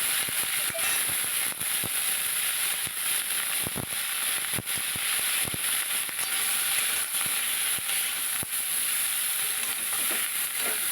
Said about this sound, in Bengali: ফুলকপিগুলো বেশ লাল লাল করে ভেজে নেব